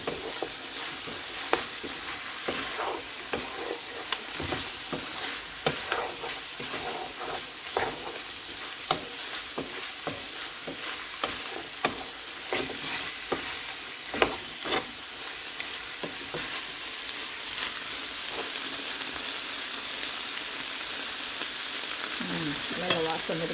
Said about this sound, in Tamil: இனி பிரட்டி விடுவோம்.